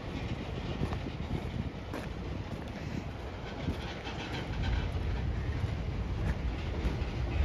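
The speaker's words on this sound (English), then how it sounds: "there are two trains on the bridge" Two trains cross a bridge, a faint, distant, steady rumble of rolling rail cars with a slight swell toward the end and no voices.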